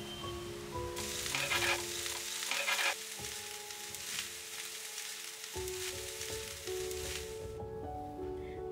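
Shrimp fried rice with spring onion greens and salt stir-fried in a pan, a close, steady sizzle broken by bursts of scraping as the spoon turns the rice, with a faint tonal hum underneath.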